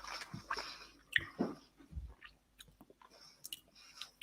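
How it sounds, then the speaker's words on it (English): Quiet, close chewing of a grilled cheese sandwich, with soft moist bites and squishy mouth sounds in an uneven rhythm, no talking. "You guys don't want to hear me munching."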